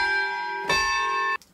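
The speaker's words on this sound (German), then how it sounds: "Ich bin ja ein großer Fan von diesen Röhrenglocken aus dem Orchester." Orchestral tubular bells tuned two octaves lower ring out in deep, sustained tones: one strike rings on, a second strike layers over it, then the sound cuts off sharply and a final brief hit follows.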